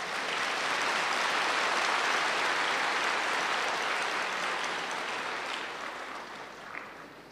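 Dense, sustained clapping from an audience at a spiritual gathering, loud and steady throughout before tapering slightly near the end, with no voices over it.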